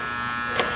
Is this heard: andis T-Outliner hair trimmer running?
yes